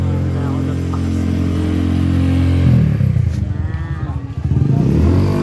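Several motorcycles pass along a street at night, engines droning loudly up close and then revving as one goes by, with a brief spoken word over the traffic.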